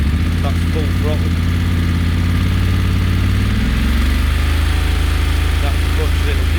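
A BMW F850GS motorcycle engine with a throttle fault, running loud and close with a steady low drone that rises in pitch and holds, never reaching full revs, while someone talks over it.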